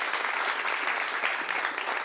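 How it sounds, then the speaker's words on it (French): A studio audience on a television talk show applauds in a thick, even burst of many hands, loud and close, filling the full two seconds without talk. "Applaudissements."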